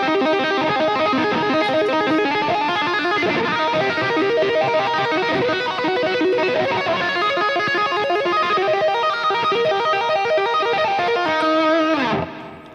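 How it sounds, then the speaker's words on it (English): Distorted electric guitar riffing drenched in reverb and a faint delay, dense sustained chords ringing continuously before cutting off near the end. "So that's why you hear that reverb."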